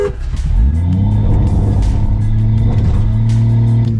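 A Subaru Forester and Outback straining against each other in a tug of war: loud, close engine drone that climbs in pitch and holds a steady high rev under load, without any talk.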